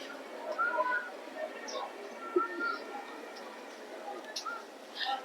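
A foreign-breed pigeon for sale cooing in soft, low, intermittent calls, with faint whistles and other bird calls scattered through a quiet, thin background.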